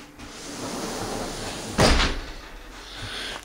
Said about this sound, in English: Nice big 6-foot patio entry door.